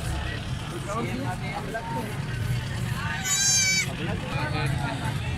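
A two-toothed Rajanpuri goat at a livestock market gives a brief bleat over steady crowd chatter, nearby traffic and a rumbling background.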